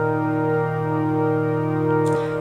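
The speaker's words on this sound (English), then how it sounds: "if we add just a little bit of reverb onto our pad here" A sustained synth pad with a touch of added reverb holds a steady, layered chord at moderate volume, softened and set back, then cuts off near the end.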